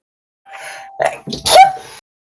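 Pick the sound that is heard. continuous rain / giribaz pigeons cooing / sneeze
sneeze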